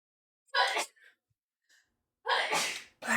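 A person sneezes twice at close range, each burst loud and sharp, with a short breath between them and a third sound beginning at the very end.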